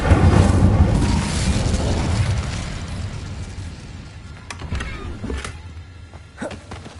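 A fire spell cast in the Hogwarts Legacy video game, a loud roaring burst of flame with booming rumble that slowly fades, followed by a few sharper pops and thuds.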